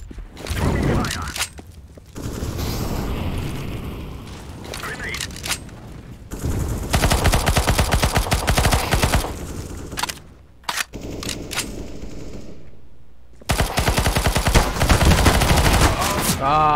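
Gunfire in the video game CS:GO comes in repeated bursts of rapid automatic shots, loud and close, broken by short pauses, with a player talking over parts of the action.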